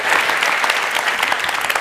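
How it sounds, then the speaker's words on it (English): A crowd claps loudly and continuously, dense applause filling the whole brief moment. "Give yourselves a round of applause."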